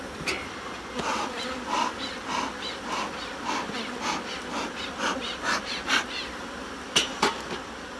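Honeybees at an open hive during a summer inspection, a steady close buzzing with repeated swells and a few sharp knocks or scrapes of hive equipment, no talking.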